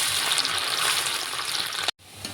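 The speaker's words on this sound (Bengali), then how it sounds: "সাদা তেলে ভেজে নেবো এই দেখুন গাজর ভেজে নিচ্ছি" Chopped carrots fry in hot white oil as meat curry prep begins, a loud steady sizzling hiss that stops abruptly near the end, then resumes faintly.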